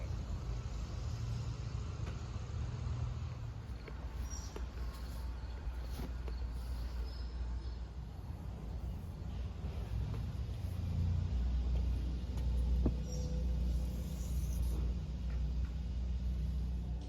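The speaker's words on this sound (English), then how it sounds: "Right now, I'm currently moving my truck so the homeowner can leave." A pickup truck's engine idles and rumbles steadily while being driven a short way at a homeowner's driveway, low and continuous with a slight swell near the end; no talking.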